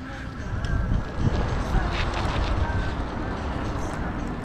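Steady outdoor wind buffets the microphone during a winter ride in South Korea, a broad low rumble running throughout with loud gusty surges, under intermittent speech.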